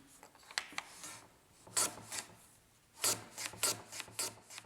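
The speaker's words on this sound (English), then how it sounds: "I move over to the shooting board and I have a jig that helps me cut 30-degree bevels really accurately." Hand plane shaving 30-degree bevels on wood held in a jig on a shooting board, Japanese kumiko joinery work: a series of short rasping strokes in bursts, close and fairly quiet, no talk.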